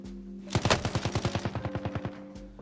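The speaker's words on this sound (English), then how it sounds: "I get shot from the roof again" A rapid burst of automatic gunfire in the video game Warzone, about fifteen close, evenly spaced shots over under two seconds, ringing over a steady low hum, with no talking.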